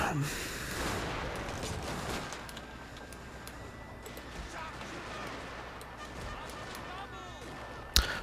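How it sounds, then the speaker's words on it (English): Rolling volleys of musket fire and distant battle din as troops fire on Shogunate infantry in the strategy video game Total War: Shogun 2 Fall of the Samurai, dense crackling under a steady noise bed with a sharp final crack. "here I'll order my troops to fire on the Shogunate infantry"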